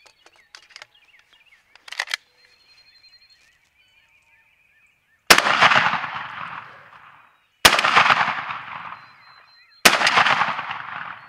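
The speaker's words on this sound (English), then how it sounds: "I'm shooting a 3-inch load out of my Remington 870" A Remington 870 shotgun fires 3-inch Federal Third Degree shells outdoors: three loud, sharp blasts a few seconds apart, each trailing off in a rolling echo, after quieter clicks and handling sounds.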